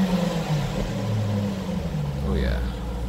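A 2018 Mopar '18 Edition Dodge Durango SRT's 6.4-liter Hemi V8 with dual exhaust is revved a couple of times, its deep rumble rising and falling up close under a steady engine drone.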